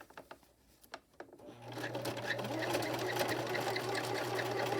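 A sewing machine zigzag-stitches fabric for an 18-inch doll nightgown, starting after a few soft handling sounds and then running steadily with a low motor hum and rapid needle chatter until the end, fairly quiet.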